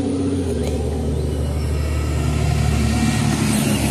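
A Traxxas Stampede 4x4 VXL electric RC truck runs steadily, its drivetrain whine and rumble holding at a constant level with slight surges, close and loud with no voices.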